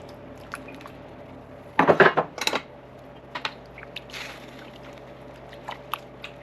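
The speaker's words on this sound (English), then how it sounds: "So we're gonna put the scallops in." Scallops dropped into a simmering pot of seafood chowder: a brief cluster of wet plops and clattering splashes near the start, then a few faint scattered clicks over the quiet bubbling.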